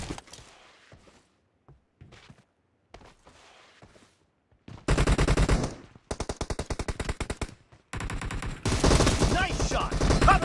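Rapid automatic gunfire from the mobile battle-royale game PUBG Mobile erupts after a stretch of quiet, sparse sounds, with loud, dense bursts of shots separated by brief pauses and continuing to the end.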